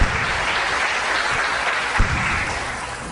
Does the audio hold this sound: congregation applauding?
yes